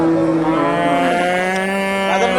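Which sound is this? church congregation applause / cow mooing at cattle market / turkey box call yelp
cow mooing at cattle market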